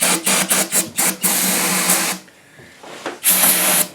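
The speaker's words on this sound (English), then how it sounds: "You need to clean this off with brake cleaner." Brake cleaner sprays in short, sharp hissing bursts into a bolt hole on a big-block Chevy engine block, then one longer hiss, a pause with faint clatter, and a final loud burst.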